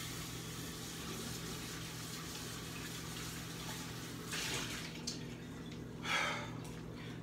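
A tap runs steadily into a bowl being rinsed out, a faint continuous water hiss with a few brief splashy swells near the end, no voices.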